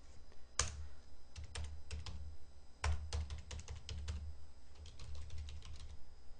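Fingers typing on a computer keyboard, close up, with a quick irregular patter of key clicks and a few harder thumps, heard alone.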